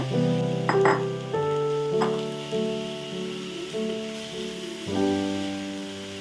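Crushed beetroot sizzles as it fries with onions in a pan, a steady close crackle with a few scraping stirs and no voices.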